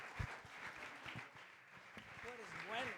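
A church congregation claps during worship, a soft scattered applause that sits under a preacher's voice and fades in and out, fairly distant and faint.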